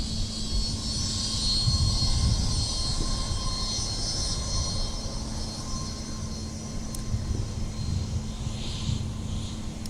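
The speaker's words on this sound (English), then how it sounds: "We got a 717." A Delta Boeing 717 jet taxiing at MSP airport gives off a steady, moderately distant engine whine and rumble that holds evenly throughout, with no talking.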